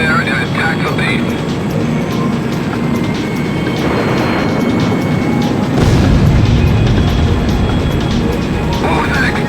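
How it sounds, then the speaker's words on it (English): A loud explosion bursts mid-flight in the Ace Combat X air-combat game, a broad low boom rising out of steady jet and engine roar, with radio voices talking over the action throughout. "What was that explosion just now?"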